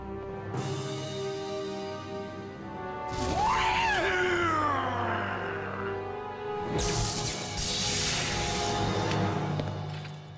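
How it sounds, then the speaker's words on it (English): A scream in the Devil May Cry 2 video game, a loud wailing cry that bends and falls over a few seconds amid swelling game noise and bursts of effects. "nice little scream."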